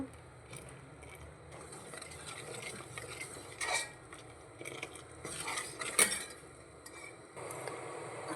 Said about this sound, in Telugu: మనం ఇట్లా కలుపుతూ ఉండాలి కొద్దిసేపు